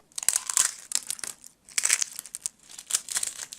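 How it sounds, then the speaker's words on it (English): A flower frozen stiff in a dry ice mixture crumbles by hand with crisp, crackling crunches in several close bursts, brittle and dry, with brief pauses between them. "It turns brittle and crumbles in your hand with a satisfying, crispy crunch."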